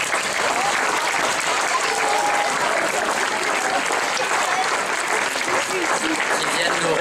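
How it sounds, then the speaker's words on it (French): A hall full of people applauds children at a Christmas show, the clapping thick, loud and sustained throughout with a faint murmur of voices underneath. "je crois que nous pouvons applaudir encore une fois tous ces enfants"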